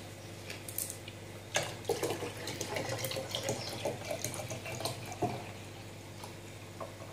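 Water runs from a tap and splashes into a mixture for a courgette and chicken gratin, a faint, steady trickle with small drips and splashes nearby.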